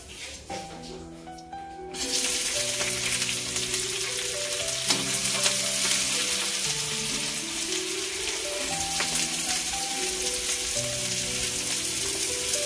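Chopped onion hits hot oil for a non-bitter karela (bitter gourd) bhaji, and a loud, steady sizzle bursts in after about two seconds of quieter sound, holding strong to the end with faint voice-like tones underneath.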